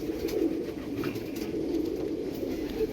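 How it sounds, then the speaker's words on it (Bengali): Pigeons coo in low, soft, continuous murmuring calls, several birds overlapping close by. "এটা কিন্তু সম্পূর্ণ আলাদা পায়রা"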